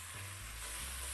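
Garlic sizzles steadily in a hot pan, a loud, continuous frying hiss with a low hum beneath and no voices.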